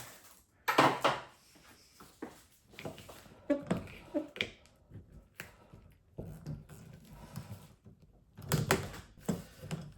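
A pry bar works at the rear wiper arm of an Acura RSX, giving scattered sharp clicks, scrapes and knocks of metal and plastic at close range, with quiet pauses between the efforts.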